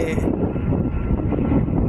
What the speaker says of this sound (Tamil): ஃப்ளைட்டெல்லாம் நம்ம வீட்டு வழியாக திருப்பி விட்டாங்க